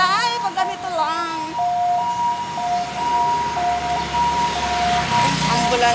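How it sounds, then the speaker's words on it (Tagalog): An ambulance siren wails in rising and falling tones as it passes along a street, fairly loud over traffic noise, with a person talking over it at the start. "Ambulansya."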